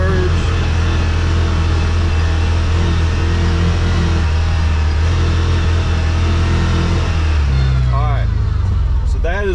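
Engine of a CFMOTO UFORCE 1000 UTV pulling steadily and loudly as it accelerates over ruts off-road, a continuous close drone that shifts pitch near the end with a brief throttle change.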